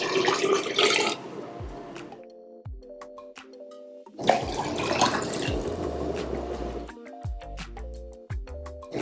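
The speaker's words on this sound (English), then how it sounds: "into this we will add 1 quart of water" Water poured from a container into a bowl of sugar for homemade Kool-Aid, two bursts of splashing pouring separated by quieter clinks and drips, close and alone with no talking.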